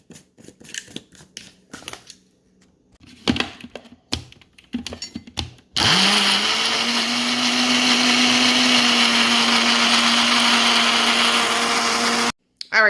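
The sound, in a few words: blender blending plantain pancake batter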